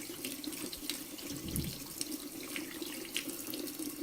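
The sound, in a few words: tap water running while rinsing tap parts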